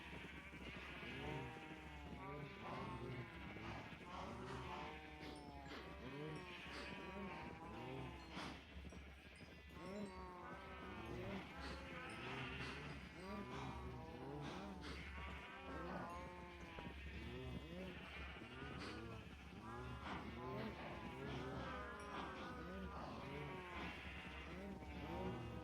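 Sheep and cows in the Minecraft video game bleat and moo again and again, a busy overlapping chorus of game animal calls that runs steadily throughout with no talking.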